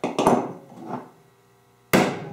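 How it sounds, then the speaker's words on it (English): A hammer pounds a nail into a wooden beehive frame with a few sharp, close strikes, each ringing briefly and decaying, followed by a pause and one more solid blow. "pound the nail in the rest of the way"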